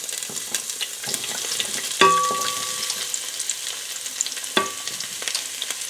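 Red and white onions tipped into a pot for Southern cabbage with smoked turkey, a soft frying crackle with stirring scrapes and a bright metallic clink or two, close up and without speech.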